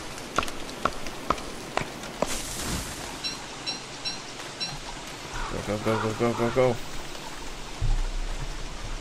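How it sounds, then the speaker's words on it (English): Steady rain patters across the ground in the survival game Don't Starve, a soft continuous wash under a player's hurried voice and sharp game sound effects. "Goddamn rain."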